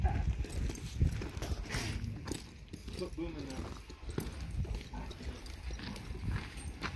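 Horses' hooves clip-clop in a steady, uneven patter as horses are loaded on a ranch, under continuous talk and outdoor noise.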